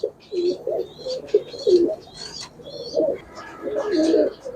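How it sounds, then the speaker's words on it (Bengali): Pink-eyed domestic pigeon cooing in a series of close, rhythmic low coos, with faint chirping and light background noise between calls. "গোলাপি চোখের কবুতর, মাশাআল্লাহ অনেক সুন্দর।"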